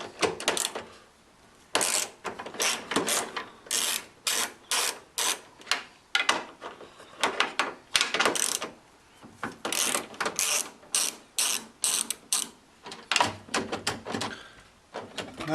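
A ratchet loosens the 11 mm mirror bolts on a Ford Ranger (Mazda B4000) door, producing repeated bursts of quick, close metallic clicking separated by short pauses, with no one talking.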